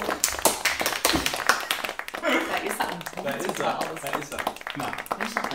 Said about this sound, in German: Einen großen Applaus für meinen lieben Freund Kai Barco.